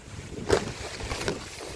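Strong wind gusts through a campsite at a fruit farm in Bamban, Tarlac. Low, rumbling buffets of air rise and fall, with two sharper gusts, and nobody speaks.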